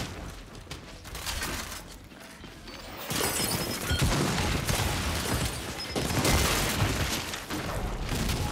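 Gunfire and explosions in the Gears 5 shooter game, with dense bursts of shots, booms and crashing impacts that get louder and denser after the first few seconds, loud and close, with no talking.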